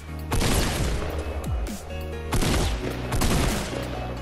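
Rapid bursts of gunfire in the video game Fortnite, several loud volleys of shots arriving in clusters with short gaps between them, no voices.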